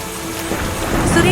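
Heavy village rain pours with a low thunder rumble, a dense wash of noise building slightly louder toward the end.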